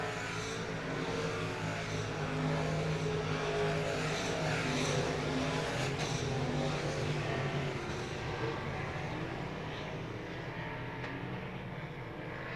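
Factory stock and limited modified race cars circle a speedway track during a heat race, a loud, continuous engine roar that swells and fades as the cars pass, with no talk.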